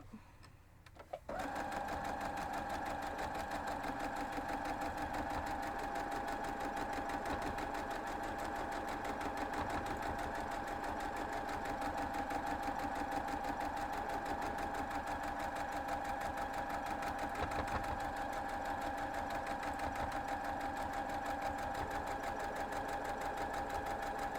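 A sewing machine running steadily while stitching a Christmas quilt block, a close, continuous motor hum with fast rhythmic needle ticking that starts after a brief pause and carries on unbroken, with no talk.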